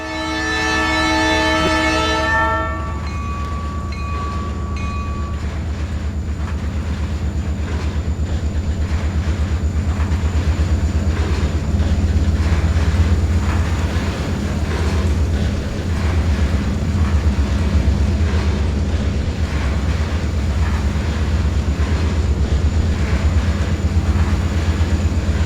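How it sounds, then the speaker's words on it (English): A train rolls past an old loadout at Jeff Junction with a steady, close rumble and clatter of railcars throughout, opening with a loud multi-tone horn blast that fades within a few seconds. "The train is currently passing by the old Leco loadout here in Jeff."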